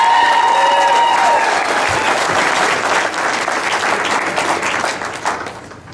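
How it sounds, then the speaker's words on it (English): Loud audience applause fills a room at a company meeting, steady clapping from a crowd that gradually tapers off toward the end. "Give it up for John Stegner"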